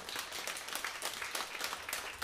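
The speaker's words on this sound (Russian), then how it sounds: "А давайте похлопаем, они вышли." Audience applause at a live stage concert as performers walk out, steady dense clapping throughout, fairly quiet and distant with no voices over it.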